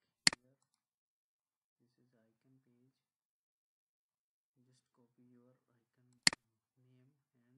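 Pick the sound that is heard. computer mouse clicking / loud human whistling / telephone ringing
computer mouse clicking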